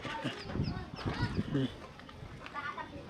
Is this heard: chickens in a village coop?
yes